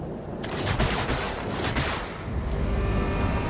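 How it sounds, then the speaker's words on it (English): Antimatter rounds firing in the video game Shadowverse Worlds Beyond, a dense, loud barrage of rapid blasts and booms that runs without a break under heavy rumbling, with no talking. "Loading antimatter rounds. Fire!"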